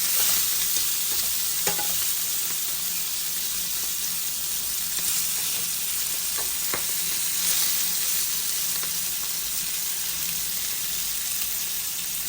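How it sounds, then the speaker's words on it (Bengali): Steady, loud sizzling of mrigal fish frying in hot oil, with occasional light clinks and stirring sounds and no voices. "আমার মাছটা ভাজা ভাজা হচ্ছে"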